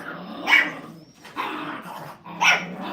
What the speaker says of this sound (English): They're trying to figure out who's the most aggressive, who can growl the loudest, who can bark the loudest.